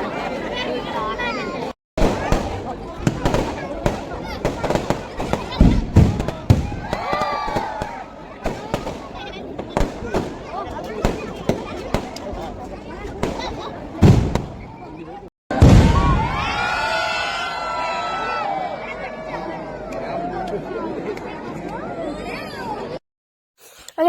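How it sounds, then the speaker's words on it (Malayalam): Fireworks display at a Kerala church festival at night, a long run of sharp cracks and booming bursts in rapid irregular volleys with crackling tails, crowd chatter and voices underneath, a brief silent gap near the middle before a louder burst. "നമ്മൾ കാത്തിരുന്ന വെടിക്കെട്ടിന്റെ വീഡിയോ ഞാൻ വേണ്ടോളം എടുത്ത് ചോദിച്ചു."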